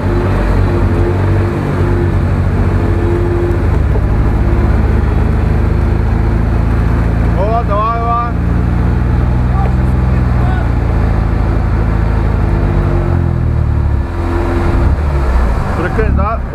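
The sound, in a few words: off-road vehicle driving, engine revving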